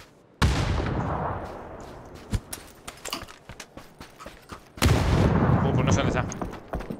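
Two loud bursts of gunfire boom in the video game PUBG, each followed by scattered sharp shots and clicks, while a voice talks in between.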